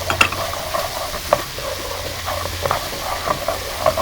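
Massaman curry paste and palm sugar sizzle in a pan while a utensil stirs them, with soft repeated scrapes and clicks over a steady close fry and no talking.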